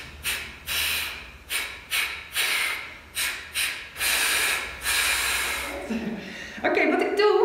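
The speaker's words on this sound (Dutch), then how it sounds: "ik let niet op mijn inademing, maar ik let vooral op de uitademing. En die doe ik krachtig vanuit mijn lijf." Forceful exhalations in a singing and breathing workout: a series of sharp, loud breaths pushed out from the body, each a short noisy burst, then longer sustained blows, close and dry with no talk.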